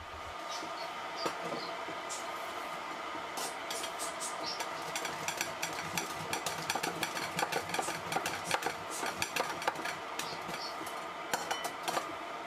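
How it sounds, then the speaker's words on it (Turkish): A bar of soap is scraped against a metal grater in a home kitchen, giving a long run of rapid rasping strokes over a steady background hum, close and moderately quiet. "kalıp sabunumuzu böyle bir rende ile rendeliyoruz"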